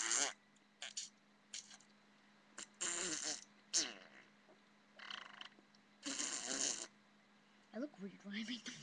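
A person imitates fart noises with the mouth, making a series of short, buzzy, sputtering bursts of varying length separated by quiet gaps, recorded up close.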